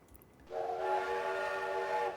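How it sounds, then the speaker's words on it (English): A train in the video game Transport Tycoon sounds a single sustained whistle, a steady tone that lasts about a second and a half over a quiet background, with no talking. "our train will come back down the track"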